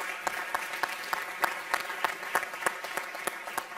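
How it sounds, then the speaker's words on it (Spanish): An audience applauds the finalists of a Research in 4 minutes competition, a moderate patter of hands with scattered sharper individual claps standing out, steady throughout without voices. "Yo de entrada ya les daría un aplauso así para que se vayan animando."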